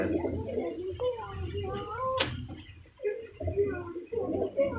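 Pigeons in a loft with nesting birds, low rolling coos and a few brief calls heard near, mixed with people talking and a sharp clatter partway through.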